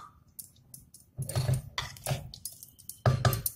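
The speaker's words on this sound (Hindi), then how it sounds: "इसको अच्छे से चला देंगे।" Cauliflower masala curry stirred in a pan after a cup of water is added, giving a few uneven bursts of metal spoon scraping and clinking against the pan, close and moderately loud, with quiet gaps between strokes.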